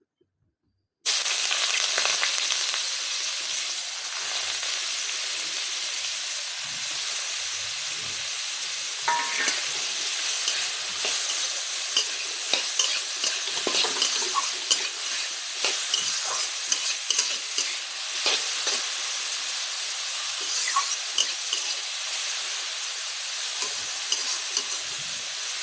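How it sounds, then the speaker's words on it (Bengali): Cabbage hits hot oil and sizzles steadily and loudly for a long stretch, with scattered sharper crackles and occasional stirring scrapes, nearby and free of speech. "এবার বাঁধাকপিটা ভেজে নেব।"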